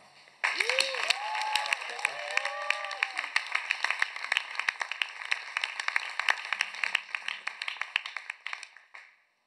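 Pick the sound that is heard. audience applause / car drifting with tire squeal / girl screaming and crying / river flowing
audience applause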